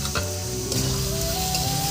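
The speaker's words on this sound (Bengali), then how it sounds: "পেঁয়াজ সবগুলো দিয়ে দেন।" Onions and garlic go into a hot pan for a fish-head jhura, giving a steady close sizzle with stirring, while a low tonal hum runs underneath and nobody speaks.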